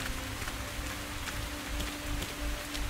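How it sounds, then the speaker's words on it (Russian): Steady rain falls in True Stalker, a dense, even hiss of drops on surfaces that runs without a break from start to finish and carries no voices. "чертов дождь уже все уши мне раздолбил"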